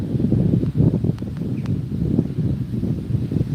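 Outdoors, gusty wind buffets the microphone with loud, low rumbling thumps that rise and fall continuously, and faint rustling and a couple of small clicks come through underneath.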